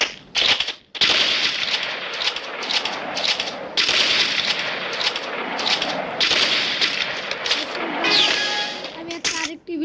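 Rapid sniper rifle gunfire in a mobile shooting game, dense bursts of sharp shots almost continuous and loud, with short gaps and a metallic ringing near the end.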